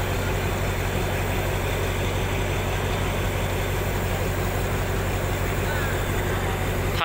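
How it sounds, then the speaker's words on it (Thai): Diesel locomotive 4226 idling near Hua Hin station with a steady low rumble and constant engine drone, moderately loud and unchanging. "ก็เป็นดีเซล 4226ที่ถูกเรียกตัวมาจากสถานีเพชรบุรีนะครับ"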